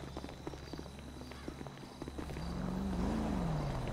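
Horse hooves clip-clop in the GTA roleplay game, a quick run of light steps over a low background hum, followed by a rising engine-like drone that swells and dips.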